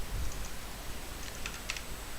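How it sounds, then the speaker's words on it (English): Quiet, sparse clicks of typing on a computer keyboard, a few soft keystrokes in small bursts, mostly near the end, over a low background hum. "I'm not very good at typing"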